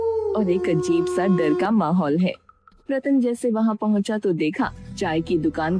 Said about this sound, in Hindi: गीदड़ कुत्ते की आवाज आ रही है